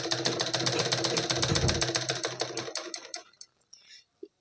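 A sewing machine runs fast and steady, double-stitching the shoulder seam of a blouse, its rapid rhythmic needle chatter loud and close before slowing and stopping, followed by a brief faint sound.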